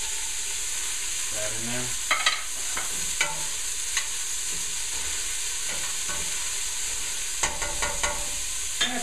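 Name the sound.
garlic cloves frying in olive oil, stirred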